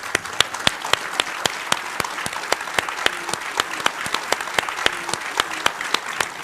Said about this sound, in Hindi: सबसे पहले तालियों के साथ स्वागत कीजिए प्रदीप भंडारी और मानव जायसवाल को